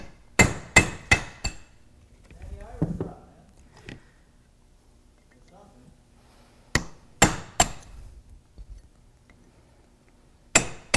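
A hammer strikes a pin punch held in a vise to drive rivets out of a Rolls-Royce brake shoe: sharp metallic taps in quick clusters of three or four, separated by quieter handling noises and pauses.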